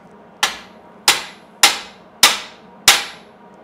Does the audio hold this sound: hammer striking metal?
yes